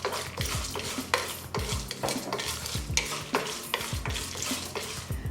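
Roasted peanuts frying in oil for tamarind rice, a soft sizzle under rhythmic stirring, with a metal spoon repeatedly scraping and knocking against the pan at a steady, close pace and no talking.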